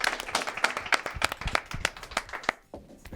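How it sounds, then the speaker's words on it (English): A studio audience claps for the contestants of a weekly school show, a quick run of sharp individual claps that thins out toward the end, fairly close and moderately loud. "Let's get one more round of applause for the Peaks and our other contestants, Lance Singer."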